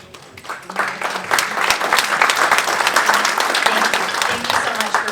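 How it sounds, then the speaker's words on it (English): An audience at an emergency town hall about a waterfront breaks into applause, a dense wash of many hands clapping that swells quickly and holds steady, with a voice speaking over it. "Give them a big round of applause."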